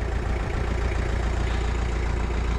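A turbocharged Kubota tractor engine idles close by, making a steady, loud, throbbing diesel rumble with no pauses or voices.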